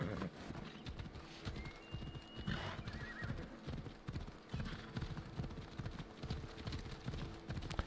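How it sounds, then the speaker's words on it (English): A horse in the video game Assassin's Creed Odyssey gallops with rapid, rhythmic hoofbeats throughout and neighs once or twice, the clip-clop clear and close. "this is a good spot to ride a horse."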